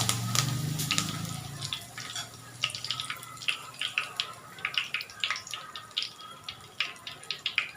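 Fennel seeds and curry leaves crackle in hot sesame oil for a Chettinad crab masala, giving a steady run of sharp, close pops and spits over a soft sizzling hiss.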